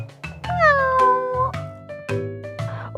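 Close, loud cat meows, several drawn-out rising and falling cries in quick succession over a faint low hum, with no voices.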